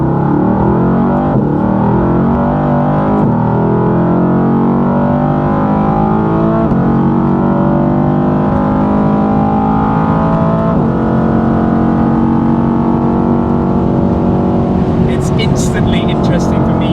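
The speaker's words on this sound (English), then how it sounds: "Instantly interesting for me being in the passenger seat how differently you hear the sound of the car" An AMG car's engine drones loudly from the passenger seat on the Nürburgring, its pitch rising and falling through gear changes, with people talking over it throughout.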